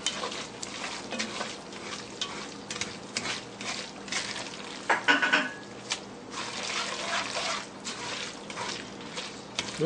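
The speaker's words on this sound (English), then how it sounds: "Toss that to coat really well." Spaghetti carbonara is tossed in a pan with the heat off, giving a steady wet, sticky stirring and slapping sound with brief louder clatters midway, and no one speaking.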